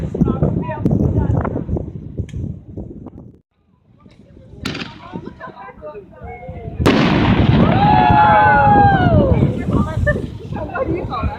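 Fireworks at a display contest: dense booming and crackling bursts, then a short lull and another strong volley with whistling, rising tails, loud and continuous, with voices faintly mixed in.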